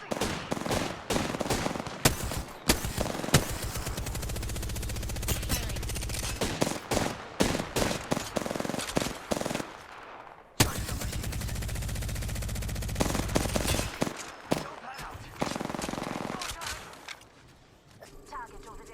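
Rapid bursts of gunfire from an Apex Legends match crackle in dense volleys and scattered single shots, loud and busy, with in-game talk mixed in and a brief lull near the end.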